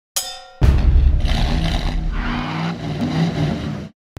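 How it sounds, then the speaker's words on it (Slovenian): An Audi RS Q8 fires up from a cold start with a loud burst and then revs hard, a deep roaring engine that stays loud for about three seconds before cutting off abruptly, heard up close with no talking. "ti lahko prvoščim vsaj en cold start."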